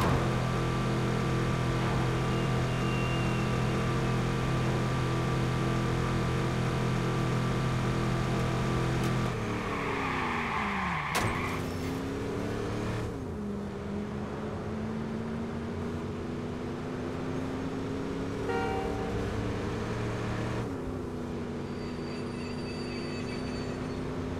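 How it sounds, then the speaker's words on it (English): A truck engine in the video game Watch Dogs, held at redline: a loud, steady droning whine that dips and climbs in pitch as the revs shift, with no talking over it. "But this truck sounds like it's about to explode though. we just redlining this thing."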